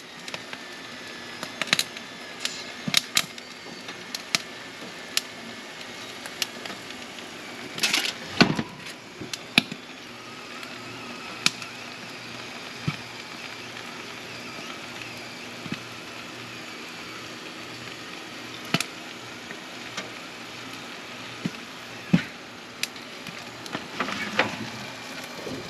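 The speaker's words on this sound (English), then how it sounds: "You hear all the crackling?" Pork belly crackles under a high-heat oven broiler, giving faint, scattered sharp pops and ticks at irregular intervals over a quiet background, with a brief denser burst partway through.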